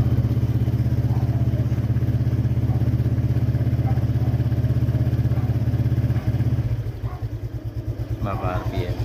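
A Honda Click 125 scooter's engine runs steadily nearby with a low, even drone that shifts slightly lower toward the end, while someone talks over it.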